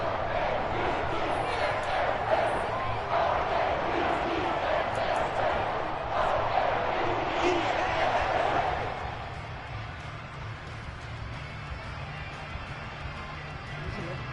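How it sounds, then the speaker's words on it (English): A stadium crowd in an American football video game roars and shouts during a replay, a dense, excited wall of cheering that drops to a quieter murmur near the end. "Plenty of shouts from this crowd as they watch the replay."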